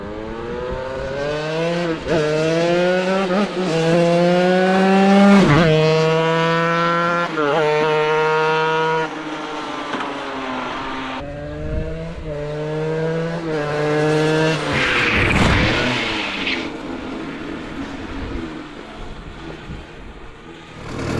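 A 420-horsepower dirt bike engine mounted on a drift trike revs hard and close, its pitch repeatedly climbing and dropping over about twenty seconds.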